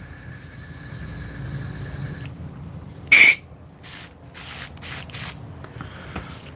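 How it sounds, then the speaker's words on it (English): Several short hissing bursts of an airbrush spraying oil onto leather, one sharp blast then a quick series of shorter sprays, after a steady faint whine. "I'll spray this through and then I'll wipe it out"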